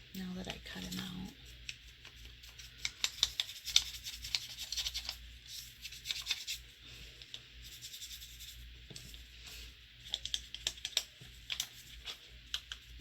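An ink pad rubbed and dabbed around the edges of a paper cutout made from old book pages, giving close, soft scratchy strokes and light taps in an irregular rhythm, with a brief voice at the start.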